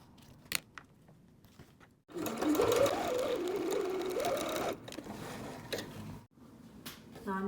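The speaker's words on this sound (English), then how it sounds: "that's where you're going to sew" Sewing machine stitching across the corner of a tote bag, a steady whirring run of about two and a half seconds, close and fairly loud, with quieter handling noises before and after.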